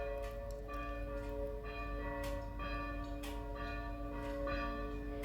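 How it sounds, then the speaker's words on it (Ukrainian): Church bells ring in a Dutch village, a steady sustained peal with layered overlapping tones and periodic strikes continuing throughout, fairly loud and near, with no talking. "Я люблю церковні дзвони."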